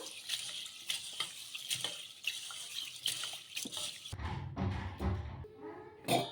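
Soaked green gram lentils for bun dosa are rinsed under running water, with splashing, rushing water and sloshing, then a shift to deeper swirling and dripping near the end.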